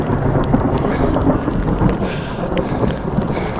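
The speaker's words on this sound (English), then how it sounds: "That's some thundering." Rolling thunder over steady heavy rain during a storm on a cycling ride from Srinagar to Gulmarg in Kashmir, a continuous dense roar with no voices.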